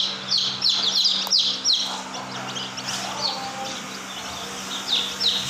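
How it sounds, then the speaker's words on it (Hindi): White Polish and Silkie bantam chicks chirp in quick, high tweets that come in bursts and trail off. They sound close and fairly clear over a low steady hum. "इसमें वाइट पॉलिश के चूज़े हैं"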